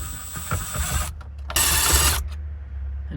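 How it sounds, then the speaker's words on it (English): A Phillips screwdriver with an extension backs out screws in the dash of a Subaru Outback or Legacy during radio removal, with ratcheting clicks, scraping and a sudden louder burst of grinding rasp; no talking. "grab your Phillips screwdriver. There's going to be 4 screws. You're going to need an extension."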